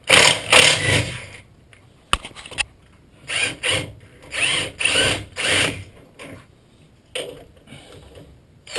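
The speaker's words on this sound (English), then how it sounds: "I'm just removing those bolts" Ratcheting and metallic clicking bursts repeat in uneven runs as bolts come off during a power steering rack replacement on a 2003 Infiniti G35, loud and close with short pauses between.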